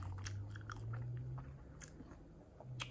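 Close, crunchy chewing of an apple donut with irregular crisp bites over a low background hum, no talking.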